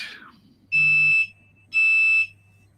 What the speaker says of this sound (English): I heard a beep going off.